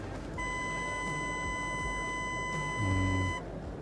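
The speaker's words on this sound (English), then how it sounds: "if I put it in reverse, it will just have a horrendously long beep" A Range Rover's rear parking sensor, engaged in reverse, sounds one long unbroken electronic beep that holds steady for about three seconds and then cuts off.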